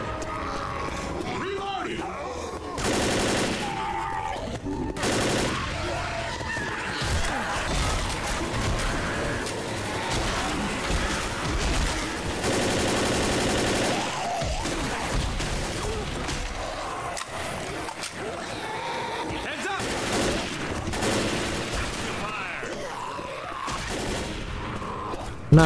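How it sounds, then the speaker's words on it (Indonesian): Gunfire in the zombie shooter Left 4 Dead, with repeated bursts of shots over game sounds and an ongoing voice talking throughout. "Aku lagi nembak nih."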